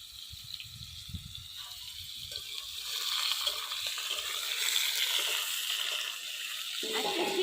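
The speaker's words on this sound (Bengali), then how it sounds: "কেটে রাখা মূলে আর আলু ভেজে নেব, একবারে সম্বারা দিয়ে দিলাম আজকে।" Chopped radish and potato hitting hot oil tempered with chili and cumin, a quiet start giving way to a steady hissing sizzle that swells and then holds, close by.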